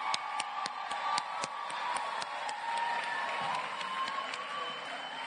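An audience applauds at a primary school student awards ceremony in the Bahamas, scattered distinct claps over a soft crowd murmur, moderately distant and fairly quiet.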